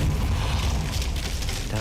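A Confringo blast spell from Hogwarts Legacy detonates in a loud, sustained explosive roar that fills the whole moment, dense and booming with no pause.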